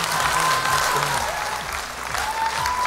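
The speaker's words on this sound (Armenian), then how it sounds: "այս ծափարությունները սենց վերցրեք ձեզ հետ" Dense, sustained audience applause fills a large TV studio during an X Factor gala show, a steady wash of many hands clapping at even loudness with faint crowd murmur and a sustained musical tone behind it.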